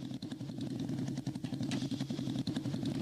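A small Honda Fan motorcycle engine in a Brazilian motorcycle game idles with a steady, low, throbbing putter that stays even and moderately loud throughout, with no voices over it.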